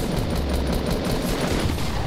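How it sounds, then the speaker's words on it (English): Rapid video game gunfire, a dense continuous rattle of automatic shots packed tightly together and loud throughout, with no voices over it. "Matt's being shot"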